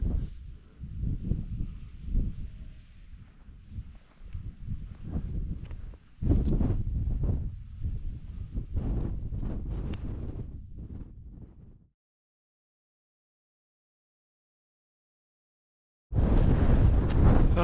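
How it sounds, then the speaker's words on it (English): Strong, cold wind buffets the microphone on an open Pennine hillside, heavy gusty rumbling roars that come and go, drop to silence for a few seconds, then return in force. "There's a very strong wind this morning, very cold."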